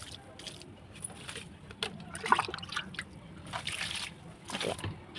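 Diluted rice-washing water mixed with coriander powder poured at the base of a potted plant, soft trickles and splashes in uneven bursts, close and moderately quiet.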